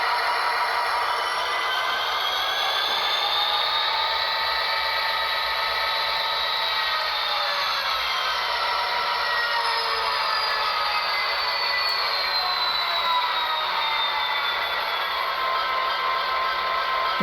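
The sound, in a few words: Athearn SD70M model locomotive with Tsunami2 DCC sound notching up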